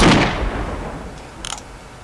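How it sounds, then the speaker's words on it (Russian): A single loud, sharp gunshot in the video game Postal 2: Apocalypse Weekend, on a military base level, fading into a short reverberant tail, followed by a faint metallic click. "Ну ладно, один выстрел, один труп"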